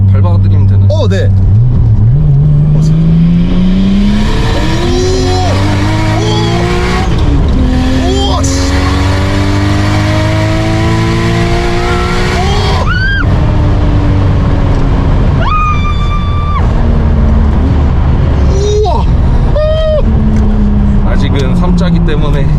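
A tuned JDM car making about 380 horsepower on 1 bar of boost accelerates hard, its loud engine note climbing through repeated gear pulls with tire squeal, while excited voices talk and exclaim inside the cabin.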